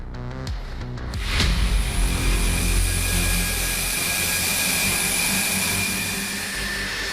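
A Rafale fighter jet's engine roars at an air force station, a loud sustained whine and rumble that swells after a brief thump and holds steady.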